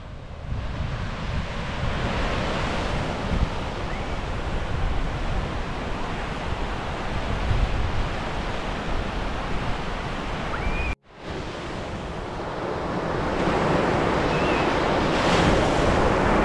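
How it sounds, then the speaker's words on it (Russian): Sea waves and wind along a seaside promenade at Carnikava, a loud continuous roar of surf with gusty wind buffeting the microphone, briefly cut off near the end before resuming. "И вот само море."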